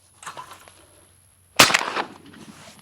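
A shotgun fires once at a clay skeet target during teal-season practice, a sharp, loud close blast that rings out briefly, preceded by faint outdoor noise.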